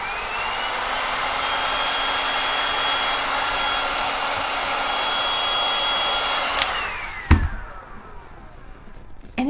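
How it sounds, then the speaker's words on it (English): A heat gun blows hot air over trim on a painted vintage sewing box, giving a loud, steady whooshing roar that cuts off abruptly, followed by a couple of sharp clunks as it is set down. "Let's heat it up one more time to make sure it's stuck on there well."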